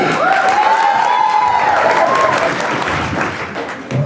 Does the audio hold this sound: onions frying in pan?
no